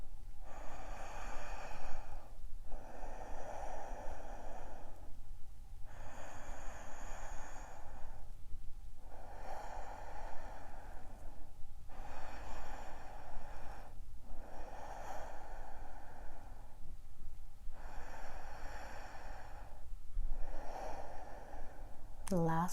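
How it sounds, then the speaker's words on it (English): Slow, deep breaths repeat in a steady rhythm during a yoga forearm stand drill, each long inhale and exhale close and clearly audible, about seven cycles in all. "Deep breaths."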